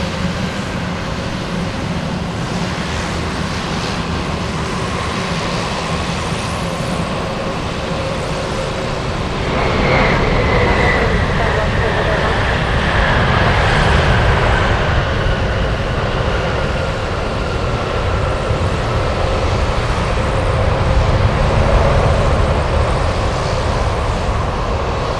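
Boeing 777 jet at JFK, a broad steady roar of jet engines at a distance that swells around the midpoint and stays loud, with a faint rising whine over the rumble.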